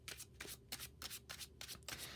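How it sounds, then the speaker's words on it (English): A Marvel Champions encounter deck of cards being shuffled, a run of quick riffling bursts repeating about every half second, close and clear with no talking. "So I'll go ahead and give that encounter deck a quick shuffle."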